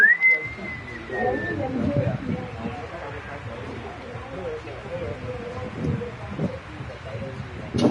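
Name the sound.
referee's half-time whistle in FC 26 football video game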